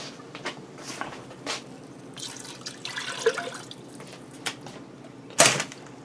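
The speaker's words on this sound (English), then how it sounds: "I'm going to add in that can filled with water." Water from a can poured into a Ninja Foodi pot already holding beef broth, a soft, steady splashing and trickling with a few light clinks and a sharper knock at the end, close and quiet.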